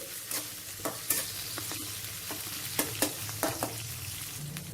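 Onions, green chillies and curry leaves fry in hot oil for tomato rice, a continuous sizzle broken by sharp scrapes and clacks of a spoon stirring the pan, close and fairly loud with no voices.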